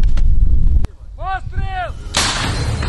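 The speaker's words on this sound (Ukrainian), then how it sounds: "Постріл!" A loud artillery gun fires once with a sharp blast near Sviatohirsk, Ukraine, a whistling, wavering tone follows, then a burst of broadband noise rushes in.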